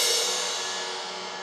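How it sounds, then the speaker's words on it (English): A scraped cymbal gives a bright metallic zing, a single sustained shimmering ring that decays gradually over a second and a half, close and alone. "You basically just scrape right off the cymbal"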